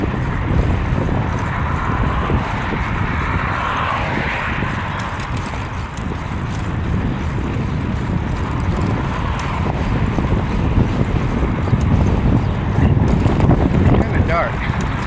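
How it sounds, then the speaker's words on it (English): Headwind roaring against a cyclist on a morning commute, a loud constant buffeting rumble across the microphone that never lets up, with faint road noise beneath it. "Especially with this headwind."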